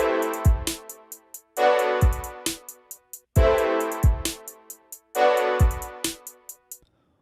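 A chord progression from the first to the second chord repeats four times as a looped beat. Each bar holds a sustained synth chord over a punchy kick and snare, with crisp hi-hat ticks on top.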